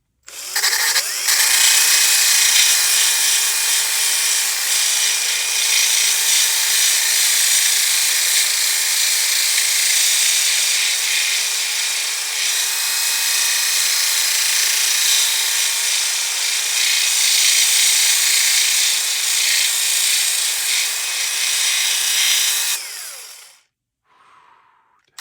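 A steering part for a Traxxas TRX4M 1/18 R/C crawler is ground with a rotary tool, giving a continuous high-pitched whining grind that holds steady for about twenty seconds and then stops abruptly.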